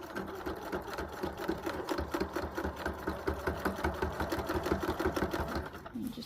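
A sewing machine stitching along the waist seam of a utility kilt, running steadily with a rapid, even mechanical chatter, fairly quiet and close.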